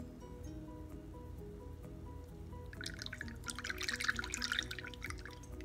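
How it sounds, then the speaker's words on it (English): Cooled mint syrup for a mint julep pours into a bottle, a soft trickling and splashing that begins partway through and runs for a few seconds over a steady low background hum. "I'm going to just pour it right into this bottle."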